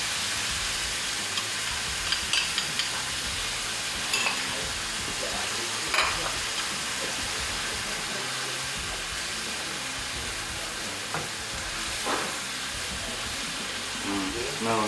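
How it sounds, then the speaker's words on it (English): Thai-style sauce simmers with browned Nevada bull elk meat in a pan, giving a steady bubbling sizzle with occasional soft stirring clicks throughout. "What we're gonna do now is that initial sauce that we're gonna add back in there and let it simmer."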